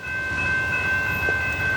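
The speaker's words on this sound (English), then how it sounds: "Leading the train is a pair of General Electric" Amtrak ballast train led by a pair of General Electric P32-8 diesel locomotives crossing the Huron River at the Superior Dam, a steady loud rumble of engines and rolling cars with a sustained high tonal whine throughout.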